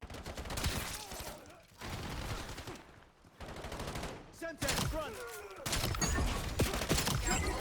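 Shotgun fire in Call of Duty Black Ops 7, bursts of sharp blasts in clustered volleys separated by brief quiet gaps, with a voice talking between and under the shots.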